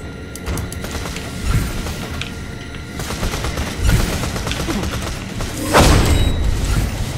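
Gunfire and explosive booms in the co-op shooter Borderlands: The Pre-Sequel, a dense, continuous fusillade of rapid shots with heavier thumps around four and six seconds, loud throughout with no talking.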